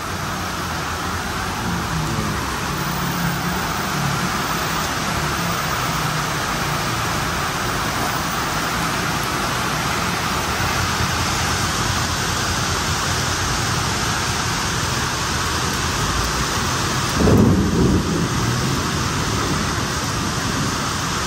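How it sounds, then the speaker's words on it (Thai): Steady, dense wash of heavy rain pouring continuously, loud and close, with a brief louder splash near the end. "เสียงฝนแรงมากนะเพื่อนๆฝนยังไม่หยุดเลย"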